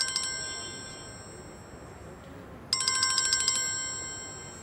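An electronic phone ringtone for an incoming call in an indoor drama scene, ringing in two bright, clear bursts separated by a pause, with no talking.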